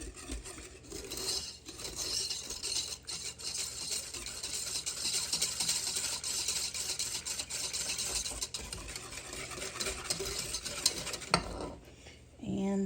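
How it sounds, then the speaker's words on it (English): Food being stirred in a hot pan on the stove, with continuous scraping, clinking and sizzling at moderate level before a brief lull near the end. "Stir it around a little bit."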